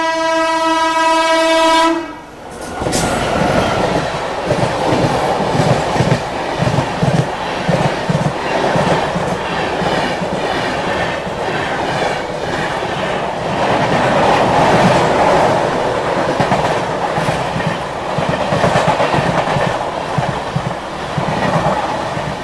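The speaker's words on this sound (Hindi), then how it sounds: "एक और क्रॉसिंग देखते हैं WG9 के साथ ये कौन सी गाड़ी है।" A WG9 locomotive sounds its horn in a long, loud blast, then a train rushes past close by with continuous rumbling and rhythmic wheel clatter over the rails.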